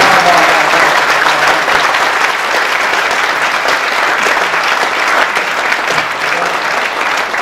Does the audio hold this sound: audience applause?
yes